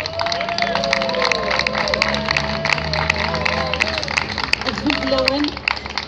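An audience applauds someone speaker, Madame Kamira, with sustained clapping under a dense hubbub of cheers and voices, steady from start to finish over a low droning background.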